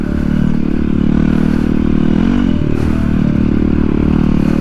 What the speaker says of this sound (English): I'm on a supermoto.